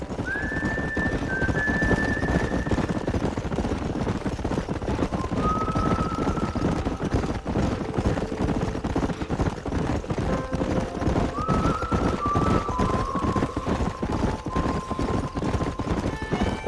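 Horses in the video game Red Dead Redemption gallop with a fast, continuous clip-clop of hooves. Several loud, high whinnies rise over the hoofbeats, and wind rushes underneath.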